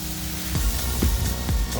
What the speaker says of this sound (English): Oh, you can definitely hear the sear.